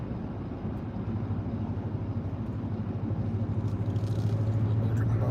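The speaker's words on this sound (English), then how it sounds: "I'll let this car pass me real quick." A car drives past on a road near a bridge, a steady low engine and tyre rumble that swells gradually and stays close throughout, with no talking over it.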